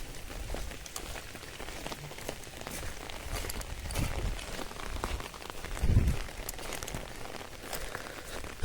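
Rain patters steadily on an umbrella and the ground while someone walks home from school in the rain, with a dense, close hiss of drops and a few heavier thuds.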